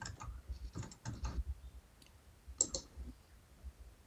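Close, quick keystrokes on a computer keyboard as a password is entered: a few rapid clicking bursts, a short pause, then another brief flurry of taps, with no voices.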